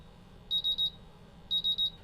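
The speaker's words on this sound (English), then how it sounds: "With the instrument alarming, make sure that all the LED lights light up, the buzzer is functional" A MultiRAE gas detector's alarm buzzer sounds during a bump test, two groups of three shrill, evenly spaced beeps, close and loud over a quiet background with no speech.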